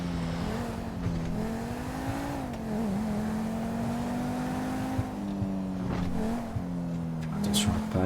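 A car is driven in a roleplay video game, its engine drone rising and falling with gear changes and revs, plus a brief tire squeal, running steadily at moderate loudness under talk.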